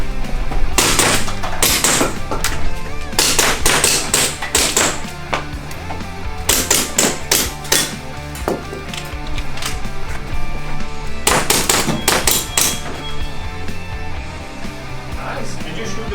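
Airsoft shots striking targets during an indoor shooting run at an airsoft company office: rapid clusters of sharp, loud metallic impacts in bursts separated by short pauses, with people talking over them.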